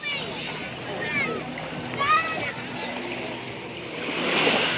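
Sea surf washing nearby at Matabungkay beach, Batangas, with a swelling rush near the end, under people talking and a few high calls.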